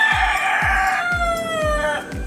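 A rooster crows loudly and close by at dawn in Playa Larga, Cuba, with one long drawn-out call over a background of repeated low thumps.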